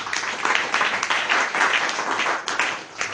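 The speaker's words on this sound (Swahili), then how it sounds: "Pigia Yesu makofi." A church congregation claps together in sustained, dense applause that holds steady loud for a few seconds without speech.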